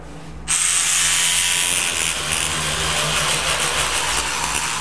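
A Rubbermaid Power Scrubber works along tile grout lines. After a short quiet start it switches on into a close, steady buzzing whir that runs continuously to the end.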